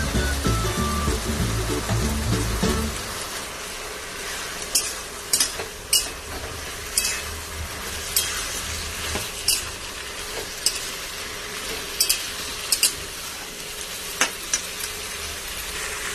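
Potatoes with turmeric and Kashmiri chili sautéed in a pan: a continuous sizzle with regular sharp ticks and scrapes of a spatula against the metal, near and fairly loud, with no voices.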